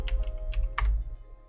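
Fingers type on a computer keyboard to enter a move in a rock-paper-scissors game against the computer, giving several quick, close clicks in a short burst that then stops.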